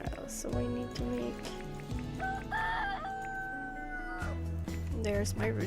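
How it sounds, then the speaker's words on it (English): A rooster crows over a busy, music-like background with layered tones, the crow rising in the middle of the clip at moderate distance. "The rooster letting us know the time."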